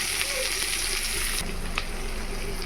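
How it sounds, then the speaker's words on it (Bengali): Sliced onions hit hot oil with cinnamon, cardamom, bay leaf and cumin for an egg curry, giving a steady close-up sizzle and hiss with a few faint stirring clinks. "এবার পেঁয়াজগুলো দিয়ে দেবো"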